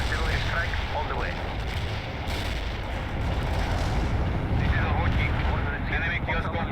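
Artillery strike in World in Conflict on a snowy battlefield: heavy explosions rumble in a sustained, roaring barrage with spoken radio-style chatter over the top.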